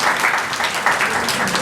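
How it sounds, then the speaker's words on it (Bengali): Loud, steady applause from an audience at a school language and value-education seminar program, with dense clapping filling the whole short stretch. "বাহ, জোরে হাততালি।"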